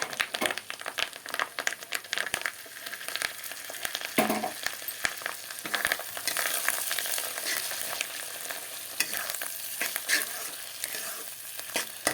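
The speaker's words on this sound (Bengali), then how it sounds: "ডিমগুলো ঢেলে ভেজে নেব" Fish roe sizzles in hot oil in a wok with a continuous crackling hiss, interrupted by scraping stirs and a few sharp pops close by.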